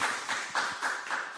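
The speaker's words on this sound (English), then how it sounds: "Can we get an applause for that?" Audience applause after a speaker's remark at a talk, a steady wash of many hands clapping at moderate volume for the whole moment, with soft rhythmic swells and no voices over it.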